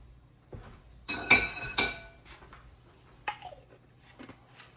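A spoon scoops vanilla bean paste into brownie batter in a bowl, making several light metallic clinks and taps against the rim, closely miked with quiet gaps between.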